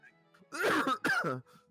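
Two short, harsh coughs in quick succession, close and fairly loud, with quiet background before and after.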